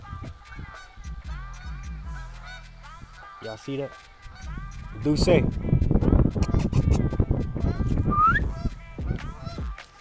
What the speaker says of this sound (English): I guess they giving out a warning call or something.